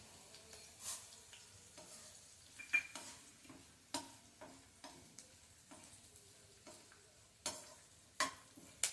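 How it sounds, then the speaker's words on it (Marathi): A tablespoon of urad dal is stirred in hot oil for a potato-dosa hot chutney, with scattered spoon scrapes and clinks against the pan over a faint steady sizzle, no voices. "उडदाची डाळ तांबूस होईपर्यंत परतायची"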